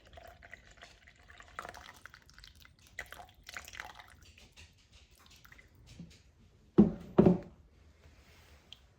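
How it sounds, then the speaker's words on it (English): Cold water poured into pizza dough for Neapolitan pizza in a stand mixer bowl: soft drips and faint wet sounds, then two brief louder splashing bursts near the end. "now we're just going to add 75 grams of water,"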